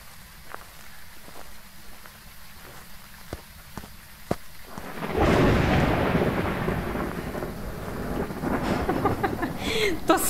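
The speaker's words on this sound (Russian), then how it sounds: "То самое чувство, когда тебя не призраки пугают, а гром." In the ghost-hunting video game Phasmophobia, a deep rolling thunder clap builds suddenly and rumbles on for several seconds. Light rain and faint footstep-like taps come before it.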